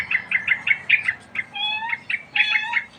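Birds chirp noisily and repeatedly, a busy run of close, bright tweets and calls with a few longer whistled notes, no voices.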